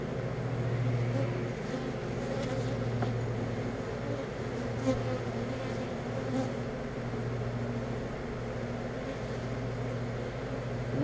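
Honey bees buzzing around an open hive during a weekly inspection, a steady, close, droning hum with occasional louder passes near the microphone.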